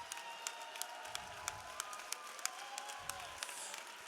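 Crowd at an activist conference plenary applauding and cheering, a sustained spread of clapping with scattered sharper claps and faint whoops, fairly distant and moderately quiet, with brief low murmurs in the background.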